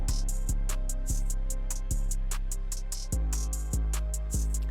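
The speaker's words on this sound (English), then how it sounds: "I ended up taking the pad and the string pattern." A rendered synth pad and a string pattern for a dark ambient loop play together: low sustained tones with plucked string hits arriving about every half second, bright airy accents above, moderately quiet and steady.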